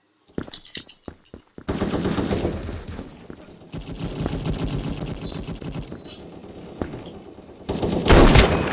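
Revolver gunfire in the online shooter Krunker.io: a few sharp separate shots at the start, then a dense stretch of rapid firing and game noise, ending in a loud close burst.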